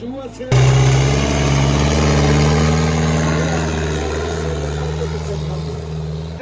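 A heavy Sonalika diesel tractor engine starts up at a village tractor competition near Ludhiana and runs steadily at a loud, low idle, throbbing close by with a constant deep rumble.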